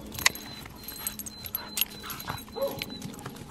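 A dog named Roxy whimpers and lets out short yips at close range, in scattered bursts over light rustling and footsteps.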